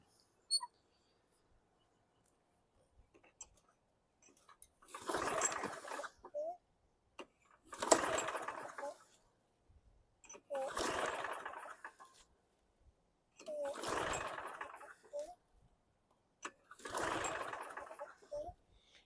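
Five separate pulls on the starter cord of a 2013 Snapper self-propelled lawn mower with a 725EX engine, each a rasping whir spaced a few seconds apart; the engine never catches.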